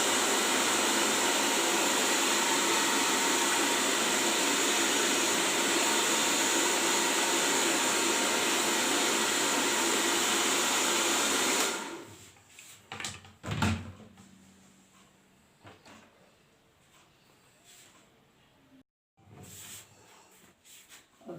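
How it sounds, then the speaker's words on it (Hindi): A hair dryer blows steadily while drying hair during a shoulder-step haircut. The broad, even roar runs loud and close for about twelve seconds, then cuts off, leaving a few faint handling knocks and brief bumps. "अब आप देखिए मैं इनके बाल ड्रायर से सुखा रही हूँ।"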